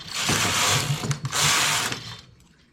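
A knitting machine carriage makes two rasping, ratchet-like sweeps across the needles while knitting a cable braid trim, each pass close and even, with a short click between them.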